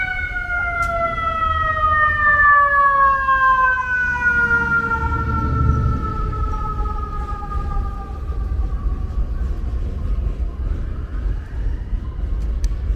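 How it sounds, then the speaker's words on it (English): A loud fire truck siren wails continuously with falling, sweeping tones over heavy street rumble on Avenue Z in Brooklyn, New York, close by and dominating the scene. "very loud, noisy fire truck."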